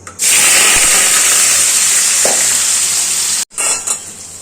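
A loud, steady sizzle bursts up as banana hits hot oil in a wok, hissing continuously for several seconds before cutting off abruptly, then a couple of softer spits.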